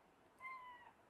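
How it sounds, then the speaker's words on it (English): A big female cat gives one faint, short meow, clear and tonal, lasting about half a second against a quiet background with no talking. "She's a big cat."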